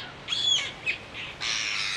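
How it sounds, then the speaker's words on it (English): Seabirds over Manukau Harbour give a few harsh, squawking calls, separate bursts at moderate loudness against a quiet open-air background. "rangatira and paddler Taikehu noticed flocks of seabirds flying from the west"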